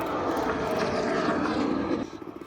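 At an airshow at Warnervale Airport, a propeller aircraft passes with a steady, loud engine drone that eases slightly in its last half second.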